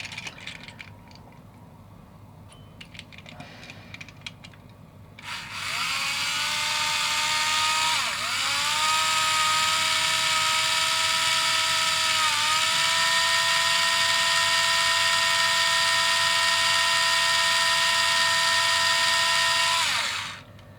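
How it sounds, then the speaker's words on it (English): An electric drill whines loudly and steadily for about fifteen seconds while drilling out plastic on a diecast model car, its pitch dipping briefly a few times as it bites in, after quiet handling noises. "make the drill bit bigger and bigger to drill away a lot of that dome"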